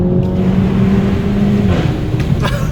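A Renault Mégane 4 RS driving on Catalan roads, its engine a steady, loud drone heard from close by with no break through the short stretch.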